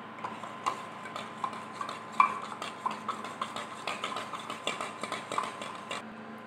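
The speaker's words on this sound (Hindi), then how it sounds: "आधा कप पानी लेंगे और कॉफ़ी में मिक्स कर देंगे।" A spoon stirs coffee into half a cup of water in a cup while preparing a simple homemade cake, giving a steady run of light clinks and taps, close and fairly quiet, with no talking.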